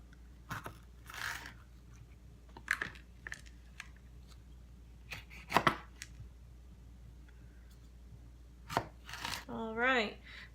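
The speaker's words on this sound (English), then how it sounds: "I'm just going to cut that off, and then I'm going to cut it down the center" Knife chopping through three jalapeno peppers on a cutting board, trimming the ends and slicing them down the center; sharp, close, crisp cuts in irregular bursts amid quiet, ending with a short whistle-like tone.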